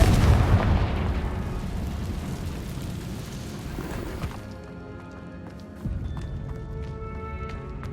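A fire spell blast goes off in a Hogwarts Legacy cave: a loud booming burst at the start rolls into a rumbling crumble of debris, then a softer thud follows partway through, with no talking.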